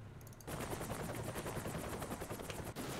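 Rapid machine gun fire bursts in loudly after a half-second lull in a Call to Arms Cold War mod battle, a steady rattling stream with a helicopter's rotor drone and engine noise underneath.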